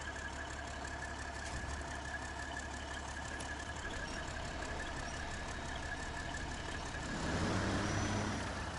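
Truck engine idling steadily after being restarted in a video game, a low continuous rumble that stays faint and even throughout, with no talking.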